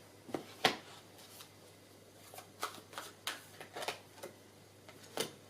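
Animal Tarot cards are shuffled by hand in a quiet room, giving a run of soft, separate riffling snaps and flicks at irregular intervals, close and fairly faint.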